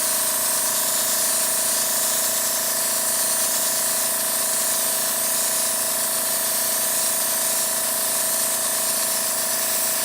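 Airbrush spraying brown base coat paint onto a tabletop terrain board, a loud, continuous close hiss with a steady compressor hum underneath, uninterrupted and without talk.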